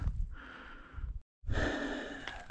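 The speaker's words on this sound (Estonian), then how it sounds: "Hingeldama võtab." Heavy, loud breaths from a person worn out after active winter ice fishing on a frozen lake, two long ragged exhalations split by a brief silence, close to the mic.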